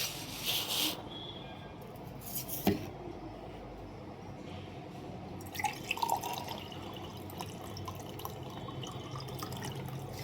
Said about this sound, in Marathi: तर इथं पाणी काढणार आहे मी